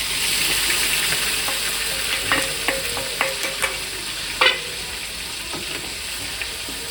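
Onion and ginger paste sizzles steadily in a hot pan over a low gas flame with whole spices, as a spoon stirs and scrapes through it with occasional soft clinks, close and continuous.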